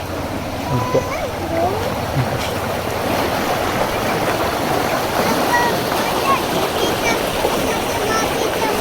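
Fast-flowing stream water rushes over rocks at Banda Gadang in Sungayang, Minangkabau, a continuous broadband roar close by with people talking faintly over it.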